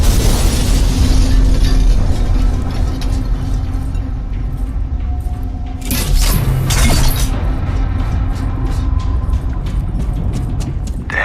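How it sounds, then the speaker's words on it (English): A promethium explosion in the video game Alien Rage sets off a loud, sustained rumbling roar, with a sharp burst near the middle and crackling debris afterward. "The glass won't take a promethium explosion."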